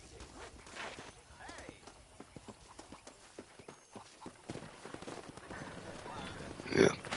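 Horse hooves clop in a quick, irregular rhythm at moderate volume in Red Dead Redemption, with a louder burst near the end.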